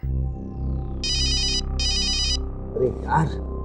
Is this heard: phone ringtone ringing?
yes